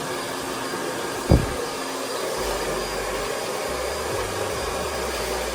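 A hair dryer blows on medium airflow with a steady, close, breathy whir that holds constant throughout, broken only by one brief thump early on.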